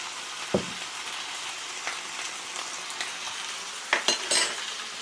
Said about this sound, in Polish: Wszystko razem przez chwilę sobie mieszamy, żeby nam to ładnie przeszło.